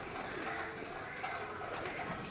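Pigeons in a loft give soft, low, rounded coos over a steady murmur of room and flock noise, a continuous gentle burble with no clear pauses.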